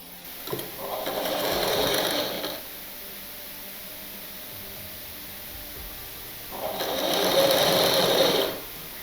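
Sewing machine stitching a three-dart cut blouse: two steady, loud whirring runs of about two seconds each, separated by a pause with only room hum, heard close up with no talking.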